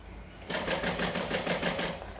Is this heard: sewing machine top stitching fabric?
yes